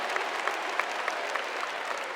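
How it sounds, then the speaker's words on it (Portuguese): Audience at a church talk clapping, a steady sustained round of applause from a crowd with sharper individual claps standing out, fairly loud and continuous with no voices over it. "Pode aplaudir essa certeza de que nós temos jeito, aplauda para valer"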